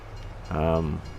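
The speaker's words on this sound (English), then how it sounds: "Okay, the train is here." In Farming Simulator 22, a train sounds a short, loud horn blast lasting about half a second, rising above a low rumble of the train rolling in. A voice talks softly before it.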